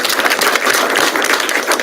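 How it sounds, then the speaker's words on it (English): Brief, close applause from the audience at a county board of commissioners meeting, a burst of many hands clapping with no talk over it. "give him a round of applause."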